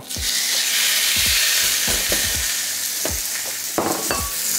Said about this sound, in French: quand ça fume bien, quand c'est bien chaud, on place directement notre pièce de viande sur le grill